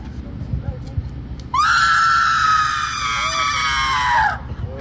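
A loud, sustained high-pitched scream from a scream queen contest at a Halloween event rings out for about three seconds, rising over murmuring background voices.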